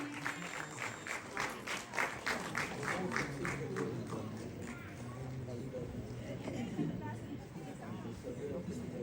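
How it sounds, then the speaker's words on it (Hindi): A crowd at the Kabir Kohinoor Award 2023 ceremony claps in a burst of applause that gradually thins out, with chatter and murmuring voices carrying on underneath. "आचार्य श्री महंत जोरदार तालियां हो जाए"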